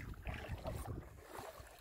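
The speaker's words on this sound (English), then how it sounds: "Just paddling down the Manistee." Canoe paddling down the Manistee River on an overcast day: brief, faint water swishes and paddle strokes mixed with wind noise on the microphone.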